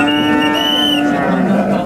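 A loud, close cow moo, long and droning with a slight pitch drop, sounds at the Çorum livestock market, where sacrificial cattle are for sale.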